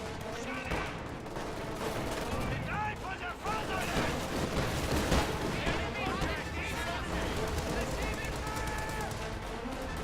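Rifle fire from G43-armed infantry and assault officers engaging paratroopers in a World War II strategy game, rapid overlapping gunshots and bursts in a continuous battle din, with a voice talking over it.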